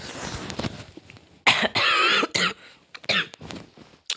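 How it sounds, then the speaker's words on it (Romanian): A person coughs repeatedly in loud, rough bursts with short gaps between them, close to the microphone. "eu tușesc o leacă"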